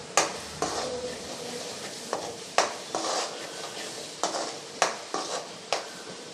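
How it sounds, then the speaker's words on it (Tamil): A spoon scrapes and stirs salted masala gravy for a potato side dish in a pan, giving repeated sharp clinks and scrapes over a soft sizzle. "உப்பு சேர்த்து நல்லா கலந்து விட்டுறலாம்."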